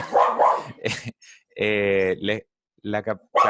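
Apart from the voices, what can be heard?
dog barking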